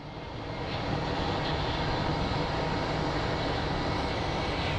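A Southwest airliner arriving at Phoenix Sky Harbor airport gives a steady, loud broadband jet roar that swells over the first second and then holds evenly, with no talking.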